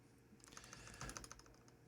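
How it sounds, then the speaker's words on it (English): Quiet, rapid clicking of keys as someone types on a 1985 ANSI computer keyboard, a quick irregular run of keystrokes. "Typing on his 1985 ANSI compliant keyboard"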